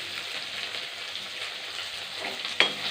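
Chopped onions fry in a pan with ginger and garlic for a green mochai and potato poriyal, giving a steady, close sizzle throughout with one sharp pop or clink near the end.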